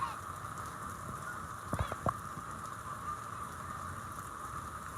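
Steady rain falling at Kentucky Kingdom amusement park, a faint, even hiss throughout, with a few brief honking calls in the middle and no talk.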